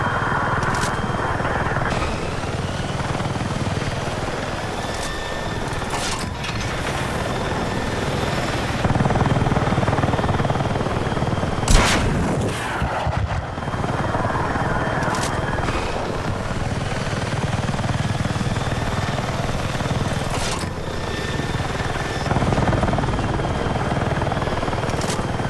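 A helicopter flying in Battlefield 6, its rotor and engine drone running steadily and loudly throughout, with occasional sharp bangs and bursts over the top.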